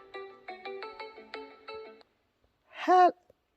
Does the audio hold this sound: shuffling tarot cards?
no